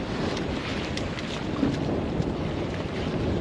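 Strong wind roars over a camera microphone aboard a sailboat in Irish waters, a loud continuous rumble with gusty buffeting and no speech.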